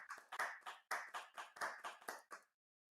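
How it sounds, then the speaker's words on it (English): A festival audience at a women's celebration event claps in a rhythmic, steady pattern of close, distinct hand claps for about two and a half seconds, then stops abruptly. "Another round of applause, y'all."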